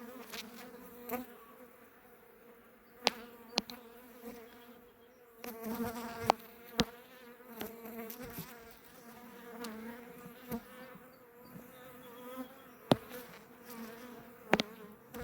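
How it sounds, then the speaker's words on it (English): A dense, steady hum of many honey bees buzzing close by at an open hive during an inspection, with occasional sharper clicks and taps punctuating the continuous drone. "Bees are getting a little feisty now."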